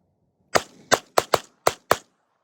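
Six sharp pistol shots ring out at shooting practice, loud and close, fired in a quick irregular string over about one and a half seconds.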